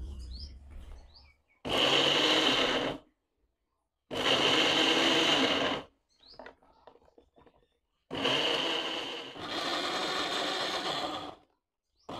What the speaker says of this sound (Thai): เดี๋ยวเราก็จะนำมาปั่นกันเลยค่ะ